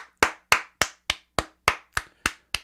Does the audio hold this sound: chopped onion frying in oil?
no